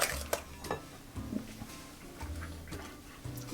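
A hand whisk beats plantain bread batter in a bowl, light irregular ticking and clinking of metal against the bowl, faint and close, with short bursts and brief pauses between strokes.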